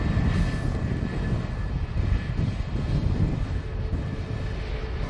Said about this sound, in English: Ryanair just arriving in.